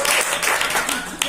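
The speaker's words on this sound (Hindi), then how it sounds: "ताली बजाइए" A class audience of students breaks into hand clapping, a short burst of brisk, fairly loud applause heard close and continuous.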